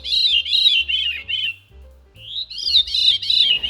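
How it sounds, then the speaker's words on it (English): A veery, a small brown thrush, sings clear and close. Its fluting phrases repeat, stop briefly and resume in rhythmic bursts. Low knocks sound faintly underneath, and there is no talking. "So this is a Veery, a cute little brown bird that belongs to the thrush family."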